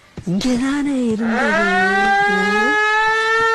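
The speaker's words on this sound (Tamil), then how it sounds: "என்னடா அது கிளம்பும் போது சங்கு சத்தம்?" A conch-like siren wails as a vehicle starts, rising quickly to a loud, steady, sustained tone that holds to the end, with brief talk at the start.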